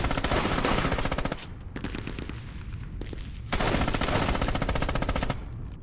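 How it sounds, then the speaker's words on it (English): An MG34 machine gun in the war game Squad Battles Eagles Strike fires long, dense, rapid bursts, loud and continuous with a brief pause between strings. "MG34, sounds fantastic."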